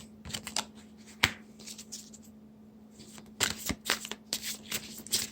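Soft, quick rustling and slapping of tarot cards being shuffled in short bursts, with a faint steady hum underneath.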